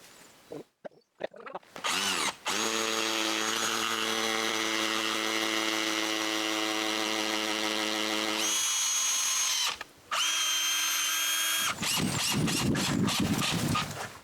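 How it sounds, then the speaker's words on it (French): A power drill bores screw holes into concrete blocks marked out for a shelter's footing, running steadily for several seconds with a brief stop, then a second harsher burst; close and loud with no talk. "je perce des trous pour des vis"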